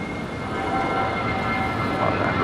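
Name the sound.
Air Tahiti Nui Boeing 787-9 Dreamliner taking off at LAX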